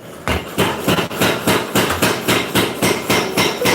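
A power hammer forging steel for a spontoon tomahawk pounds rapidly and steadily, heavy metallic blows repeating about four times a second, loud and close with no talking.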